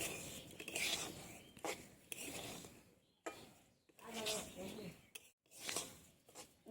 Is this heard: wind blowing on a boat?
no